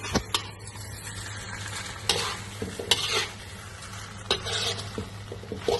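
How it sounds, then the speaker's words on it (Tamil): Scrambled egg is stirred into mee hoon rice noodles in a pan, with repeated scraping spatula strokes and clatter over a gentle sizzle and a steady low hum, close by. "எங்கம்மா கிண்டுங்க."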